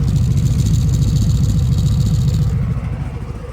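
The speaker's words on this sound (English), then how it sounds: "This is the 2020 Harley Davidson Street Glide" A stock-exhaust 2020 Harley-Davidson Street Glide idles close by, giving a steady, loud, deep rumble throughout. No one speaks.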